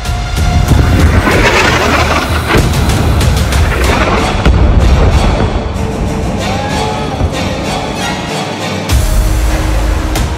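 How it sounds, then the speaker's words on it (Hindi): A smart bomb strikes and destroys a building, heard as a loud, continuous roar of blast and rumbling debris that runs for several seconds with a brief dip near the end. "स्मार्ट बम से पिन पॉइंट हमले में भस्म हो गई बिल्डिंग"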